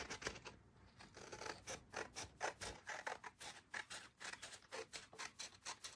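Scissors cutting paper along a traced line, a close, quiet run of rhythmic snips and crisp rustles, roughly three to four cuts per second with no talk.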